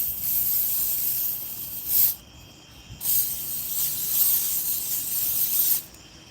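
Bug spray jets from an aerosol can in a steady, close hiss that stops briefly around two seconds in, then resumes for about three more seconds before cutting off.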